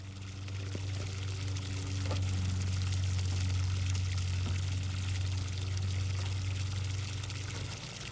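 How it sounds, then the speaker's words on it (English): Water is pumped into a septic tank during a flow test, a steady pour and trickle of liquid over a constant low machine hum lasting several seconds. "We've stopped pumping the water in here."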